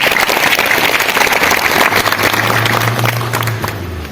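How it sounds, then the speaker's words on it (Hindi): An audience at a Holi picnic gathering in Madhuban claps loudly and steadily, a dense wash of hands that continues throughout and eases slightly toward the end, with a low hum running underneath. "तो आप अपने लिए ताली बजाओ जोर से"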